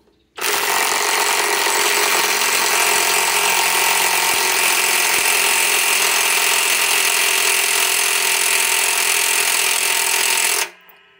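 A cordless impact wrench, either a DeWalt XR DCF891 or a Milwaukee M18 Fuel Gen 2 mid-torque, tightens a fastener at speed 3 on a fully charged battery, hammering loudly and steadily for about ten seconds before stopping abruptly.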